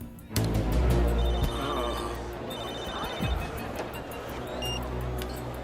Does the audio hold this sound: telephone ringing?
yes